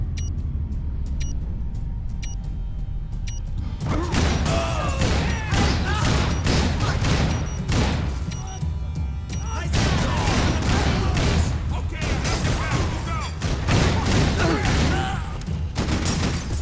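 Heavy gunfire in Max Payne 3, beginning after a quieter stretch and continuing as dense, loud bursts of shots alongside rumbling action for most of the clip.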